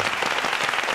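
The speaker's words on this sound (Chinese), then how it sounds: "掌声鼓励。" Studio audience applauding during a Taiwanese TV game show, a dense, even burst of clapping from a crowd, steady and fairly loud for a moment.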